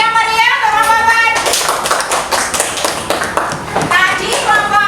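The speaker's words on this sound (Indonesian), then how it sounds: "Tepuk tangan dulu yang meriah untuk kelompok 4." Classroom applause for a student group, a burst of many hands clapping close by with dense overlapping slaps, while a teacher's voice talks over it at the start and end.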